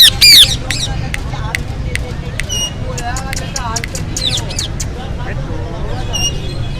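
A talking parrot for sale at the Lalukhet bird market in Karachi gives loud, sharp squawks and chirps, close and repeated, over busy market babble and voices.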